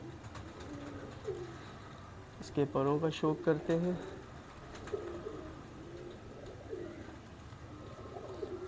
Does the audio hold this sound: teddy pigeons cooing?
yes